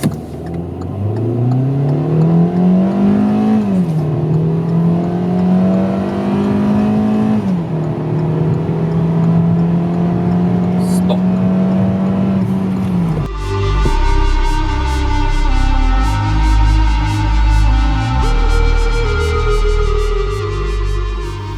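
A 2021 Hyundai Solaris engine revs up as the car accelerates toward 100 km/h, pitch climbing through several gear shifts, loud and close, then settling into a steadier drone.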